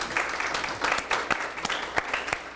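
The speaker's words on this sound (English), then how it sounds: "I thank you for reminding me to applaud everybody." Audience applause at a community foundation spring grant ceremony, honoring grant recipients: a short burst of scattered clapping from a room full of people, steady and moderately loud with individual claps standing out, no talking.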